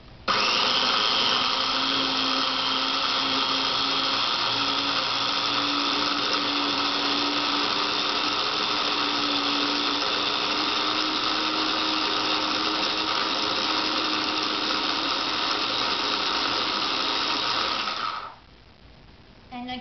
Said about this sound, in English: I'm just going to run the food processor and blend it all together, so it's going to get noisy here for just a minute.